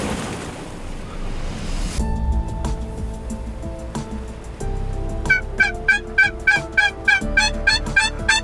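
A wild turkey gobbler calls across a wheat field on a gusty day. After a stretch of roaring wind, a rapid run of loud, close gobbles repeats in quick rhythmic bursts to the end.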